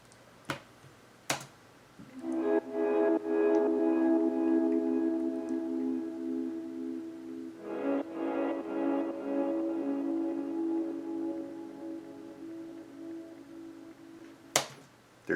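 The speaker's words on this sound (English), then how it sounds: "Track 65 here is just that reverb, but in the intro, so it sounds like this." Isolated reverb return from a guitar in a song intro, soft washed-out sustained chords swelling and decaying in a diffuse ambient tail, with a few sharp clicks at the start and end.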